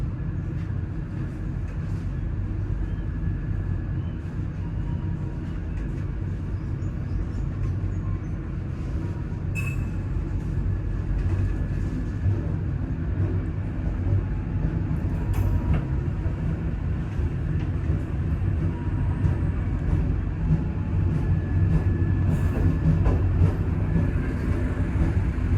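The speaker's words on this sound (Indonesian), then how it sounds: "kereta api Sancaka Utara berangkat dari stasiun" Sancaka Utara passenger train pulling out of Gundi station, a continuous low rolling rumble of wheels and cars with occasional faint metallic squeals and clanks over its length.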